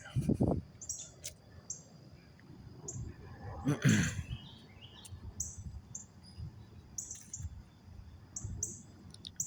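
Faint, scattered bird chirps and tweets over a low, rustling outdoor background, with a brief louder disturbance partway through.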